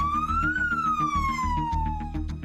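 A fire engine's siren wails loud and close on a street lined with parked cars, its pitch rising and falling in a continuous sweep over a steady engine rumble.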